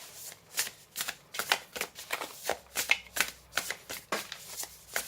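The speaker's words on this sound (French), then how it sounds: "On va maintenant tirer une carte de protecteur." Tarot cards being shuffled by hand before one is drawn, a quick run of crisp, papery riffles and slaps repeating about every third of a second, close and clear, with no speech over them.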